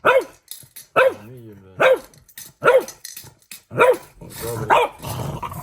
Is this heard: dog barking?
yes